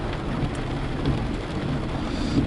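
Steady rain falls hard and continuously outdoors, a dense even hiss with faint rumbles of distant thunder underneath and no voices.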